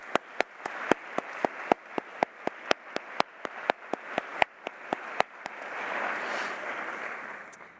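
At a graduation ceremony, a run of sharp, evenly spaced claps in quick rhythm gives way to a swelling wash of audience applause for professors.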